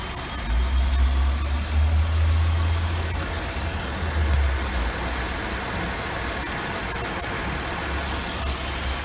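A 2008 Chevrolet Impala police car engine idles steadily with a deep, even rumble that swells slightly early on and then settles, with no talking.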